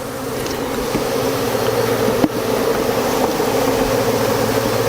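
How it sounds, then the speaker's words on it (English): A dense swarm of honeybees hums loudly and continuously around hive frames nearby, a thick steady drone with a faint tap partway through. "Now, we got bees everywhere."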